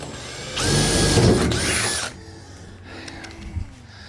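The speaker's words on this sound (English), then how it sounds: "I'm going to use a smaller pilot drill first to start our" A power drill whirs loudly for about a second and a half, biting into aluminum on a V-bottom boat while drilling a pilot hole, then winds down, followed by quieter handling clicks.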